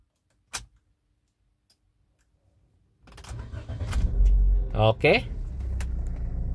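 A 2016 Toyota Sienta engine cranks and catches, then settles into a steady, low idle, after a single click and a short spoken word.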